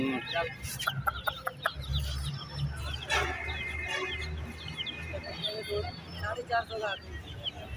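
Aseel roosters, golden breed chickens, quail and chicks at a busy Sunday bird market in Lalukhait, clucking and squawking close by in bursts, with a rooster crowing, over a steady crowd murmur and nearby talk.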